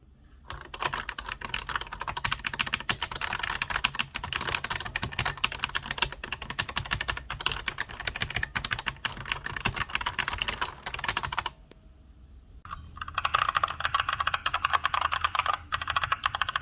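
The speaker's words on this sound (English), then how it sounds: "It kind of sounds like a clacky plastic kind of sound to it, and it doesn't sound like a sturdy mechanical keyboard." Steady, fast typing on a Roccat Vulcan Pro mechanical keyboard with red linear switches, a clacky, plastic sound from dense overlapping keystrokes, close and loud, with a brief near-silent gap before the typing resumes.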